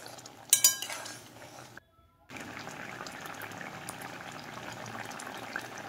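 A spoon clinks and scrapes against a pot while boiled raw green mango is stirred, a few sharp metallic knocks early on, a brief silence, then a low steady bubbling simmer.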